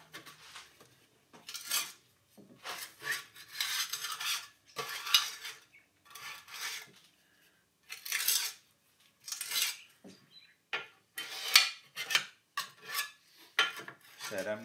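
Scraping and clinking of a metal tool on a 2008 Club Car DS gas golf cart crankcase with a blown gasket, close and fairly quiet, in irregular short strokes separated by brief pauses.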